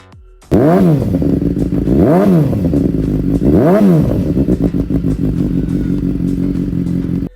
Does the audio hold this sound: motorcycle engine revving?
yes